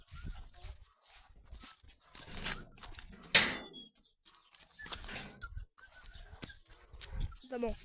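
Soft, scattered clucks and squawks from chickens come in irregular bursts, fairly close outdoors, with quiet gaps and a sharp bang midway.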